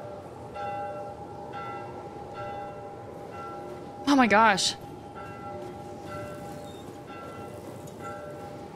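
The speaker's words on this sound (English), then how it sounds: "yeah, I hear bells" Church bells ring in the video game The Last of Us, faint repeated tolls behind a steady ambient drone, while a person briefly talks and a short, louder in-game sound cuts in midway.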